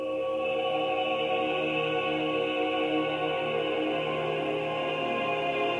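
Soft, steady ambient music built from sustained humming tones, smooth and unchanging, playing alone without any talking.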